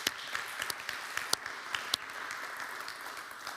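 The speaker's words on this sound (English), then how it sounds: "A big round of applause for you guys." A seminar audience applauds the speakers with light, fairly faint clapping. A few sharper individual claps stand out above the rest.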